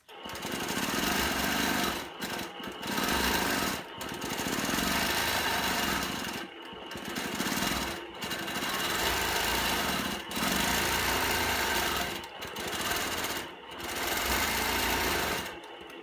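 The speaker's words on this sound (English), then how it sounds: "I'm going to be quilting the feathers halfway in between these two boundary lines" A sewing machine stitches free-motion quilted feathers in a loud, close, continuous whir. Brief pauses break the run every couple of seconds, and no one speaks.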